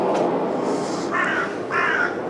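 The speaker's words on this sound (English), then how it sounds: "Now we've got a bird" A crow caws outdoors in two harsh, rasping calls about half a second apart, standing out over a constant low rumble of ambient noise.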